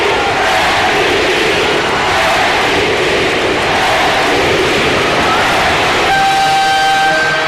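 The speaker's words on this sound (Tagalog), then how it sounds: "This capacity crowd chanting" A capacity crowd in a basketball arena chants loudly and continuously through the final seconds of a 2013 Governors Cup Finals Game 7 between Petron and San Mig Coffee. The dense roar of many voices stays steady and fills the space, with no single voice standing out.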